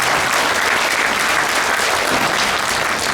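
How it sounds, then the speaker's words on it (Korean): Steady, dense applause from a crowd at a pastors' prayer meeting, continuous clapping at even loudness throughout with no talking. "박수하겠습니다."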